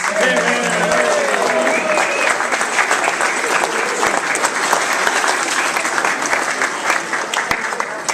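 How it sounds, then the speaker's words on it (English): Loud, sustained applause from a large crowd, steady clapping throughout with a few voices mixed in early on. "I'm sure that you will all join me in giving him a big round of applause"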